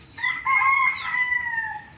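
A young rooster crows in a single drawn-out, rising then falling call lasting about two seconds, close and clear, with no other sounds around it.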